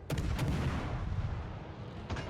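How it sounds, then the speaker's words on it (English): Naval gunfire from a warship in the World of Warships Legends video game: a few sharp, loud booms, one at the start, another shortly after and a final one near the end, over a steady low rumble. "One last shot while the smoke screen's still here."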